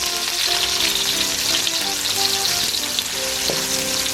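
Food sizzles loudly and continuously in a hot pan while being cooked for squid adobo, a dense, unbroken frying hiss heard close up with a faint stir near the end.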